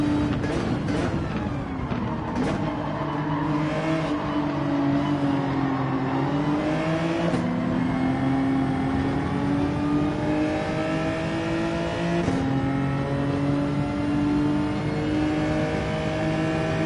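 A race car engine in a racing video game revs steadily through a triple-apex corner, its loud continuous tone rising and falling as it shifts and accelerates on exit, with no talking.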